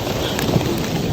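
Rain comes down steadily on a zone 4 no-dig vegetable garden, a dense close hiss with scattered drops.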